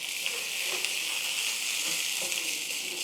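Ginger garlic paste fries in a pan with turmeric and salt and only a drop of oil, giving a steady broadband sizzle with a soft crackle throughout, close and fairly loud, with no voices.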